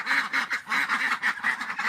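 A duck quacks in a rapid, steady series of about eight nasal calls, close and fairly loud, with no talk.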